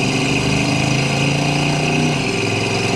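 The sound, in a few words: 1971 Chevrolet El Camino 350 V8 accelerating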